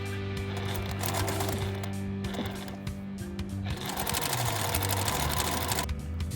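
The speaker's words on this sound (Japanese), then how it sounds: "両端をミシンで縫います。" Sewing machine stitching across the ends of a small folded fabric tab for a scrap-fabric mesh pouch, a steady close, loud mechanical whir running continuously with brief changes in speed.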